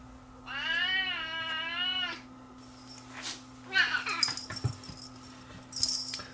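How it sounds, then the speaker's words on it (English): A pet cat meows loudly and drawn-out close by during a security camera setup, followed by shorter chirping mews, over a steady electrical hum in a quiet room. "That's my cat interrupting me."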